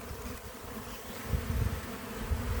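Bees buzz close and steady in a hive, a dense droning hum from many insects together with no voices.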